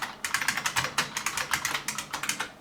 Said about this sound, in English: But typing on this